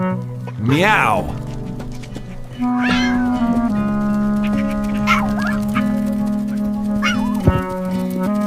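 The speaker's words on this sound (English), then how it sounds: "Meow." A cartoon cat meows repeatedly in a high voice, several drawn-out sliding meows spaced across the stretch, loud and close over a steady musical backing.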